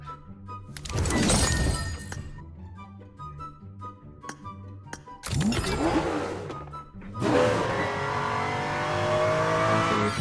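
An F1 car in PUBG Mobile accelerates in loud bursts, rising engine roars that swell, drop away and surge again, close and without talking.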